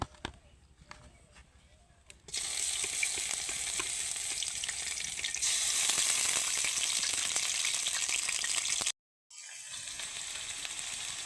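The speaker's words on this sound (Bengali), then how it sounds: "এখন আমি আগে থেকে এই যে আদা, রসুন, জিরা আর এর সাথে আমি পেঁয়াজ বেটে দিছি, আর সাথে কাঁচামরিচ আছে, এগুলো এখন আমি দিয়ে দেব।" Ginger, garlic, cumin, ground onion paste and green chilies drop into hot oil and burst into loud, steady sizzling after a quiet opening with faint clicks, cut off by a brief silence before resuming.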